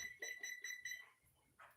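A few quick electronic beeps in a short run, then soft clicks and a brief rustle, fairly quiet and close.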